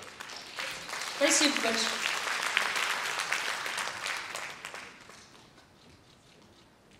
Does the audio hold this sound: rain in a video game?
no